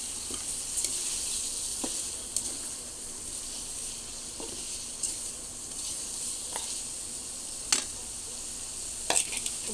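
Fried eggplant and potato tossed into a pan with fried onions, salt and turmeric, giving a steady soft sizzle punctuated by occasional clicks and scrapes of stirring, with no talk.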